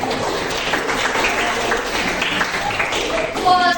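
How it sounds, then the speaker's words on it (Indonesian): A class or audience claps together during an economics lesson. The applause is steady and moderately loud for a few seconds. "Tepuk tangan dulu buat kalian."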